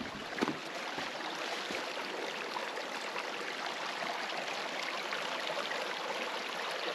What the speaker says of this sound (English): We have a little creek,